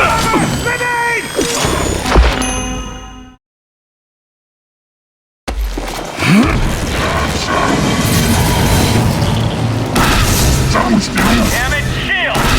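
A grenade detonating in the shooter game The Bureau: XCOM Declassified, a loud booming crash that cuts to a brief silence, then heavy rumbling combat noise with voices calling out over it.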